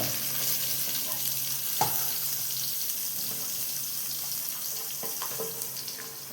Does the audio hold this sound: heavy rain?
no